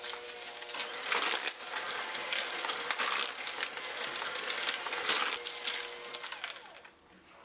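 An electric stand mixer creams butter with fresh orange zest, giving a steady whirring and scraping hum with slightly rising and falling intensity, close up and without voices.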